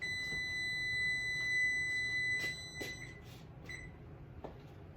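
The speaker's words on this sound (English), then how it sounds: "that was the timer to tell me that the dough was ready." A steady electronic beeping tone sounds from a nearby kitchen timer signaling calzone dough is ready, fading out midway, with faint clicks and clatter of kitchen activity around it.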